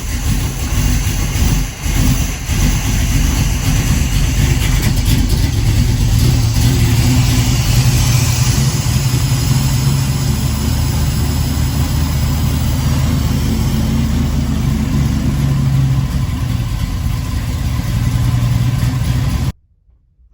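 A 502 big block V8 running on Holley Sniper 2 EFI in a 1969 Camaro, steady loud idle with a deep continuous rumble close by, cutting off abruptly at the very end.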